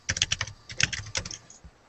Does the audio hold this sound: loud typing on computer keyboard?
yes